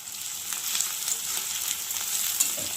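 Capsicum, onion and whole cumin sizzle in a pan while being stirred, giving a continuous close hiss with repeated light scraping strokes across the surface and no voices.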